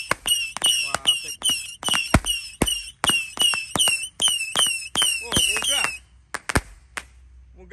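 A jumbo box of Roman candles and firecrackers set off at night, a rapid volley of sharp pops with whistling trails, loud and close, tapering to a few last bangs, with a brief exclamation.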